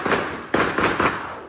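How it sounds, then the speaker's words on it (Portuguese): Four loud, sharp bangs of gunfire in quick succession, close and reverberant, with no talking, at a residential condominium in Rio de Janeiro. "Primeiro foram 7 tiros."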